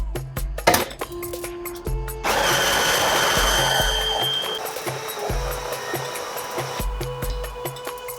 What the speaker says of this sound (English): first of all I pour red beans. I blend them.